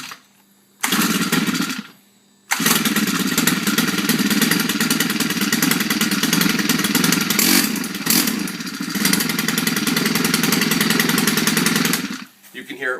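A small two-stroke engine on a Stihl Kombi KM 130R sputters, catches, and settles into a loud, buzzing idle that runs steadily, nearby.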